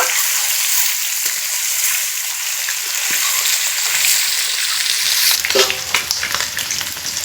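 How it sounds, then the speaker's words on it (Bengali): Eggs frying in a pan of hot oil for egg curry, a loud continuous hissing sizzle with a few stirring knocks and spatters toward the end, with no voices. "এখন আমি ডিমগুলো ভেজে নেব।"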